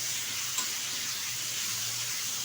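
Bottle gourd pieces stirred and frying in oil give a steady, even sizzle with a faint hiss and no voices over it.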